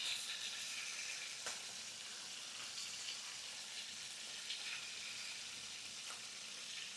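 Food sears in a hot skillet with a steady, close sizzle and crackle that keeps going the whole time, with occasional sharper pops and no talking.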